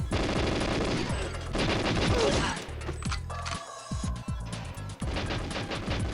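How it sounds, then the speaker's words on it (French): GoldenEye video game gunfire: loud rapid automatic bursts and repeated single shots, dense and close, with brief pauses between volleys. "Allez, Natalia, qui c'est qui me tire?"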